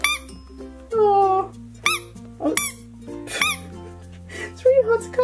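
A squishy toy being cut open gives high squeaks amid soft squishing, with people talking and background music throughout.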